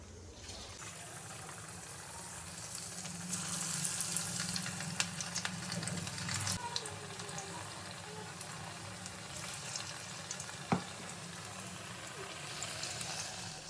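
Food fries and sizzles softly in oil with curry leaves and sesame seeds while a kebab is cooked. A steady hiss runs throughout, with faint stirring clatter and a sharp clink partway through.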